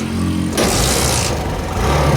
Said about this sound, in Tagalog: Ito, umaandar na to mga boss.